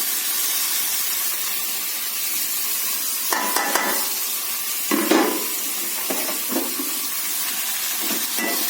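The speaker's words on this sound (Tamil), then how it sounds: "இப்போது பூவை கொட்டுறோம்." Banana flower tipped into a hot oiled pan with turmeric for a Tamil-style egg stir-fry, setting off a steady close sizzle with bursts of scraping and stirring from a spoon against the pan.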